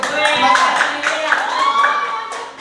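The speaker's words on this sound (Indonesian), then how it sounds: "Tepuk tangan dulu, Bang" A group of students claps in unison in a classroom, quick rhythmic patterned claps at a steady beat, with voices and chanting prominent over the clapping.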